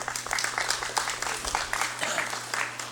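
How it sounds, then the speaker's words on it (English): Applause from a legislative session audience welcoming an executive director, moderate clapping from a modest group over a steady low hum, fairly even throughout. "Please give him a round of applause."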